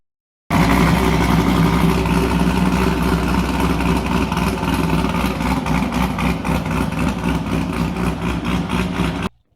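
Real Ferrari engine running at a steady, loud idle with a deep continuous rumble and slight flutter, lasting almost nine seconds before cutting off abruptly, no voices.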